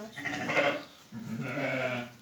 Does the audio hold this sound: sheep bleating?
yes